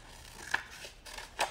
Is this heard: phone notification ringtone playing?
no